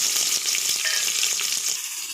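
Onions hit hot oil where mustard seeds are spluttering, giving a loud, close, continuous sizzle with a bright crackle throughout and no talking.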